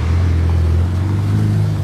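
A McLaren 720S sports car passes along the Monaco seafront, its engine a steady loud low drone that swells slightly and then holds close by, with no talking.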